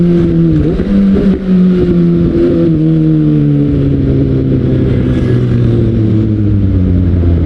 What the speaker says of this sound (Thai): ZX6R นี่ลากรอบมันเหมือนกันเลย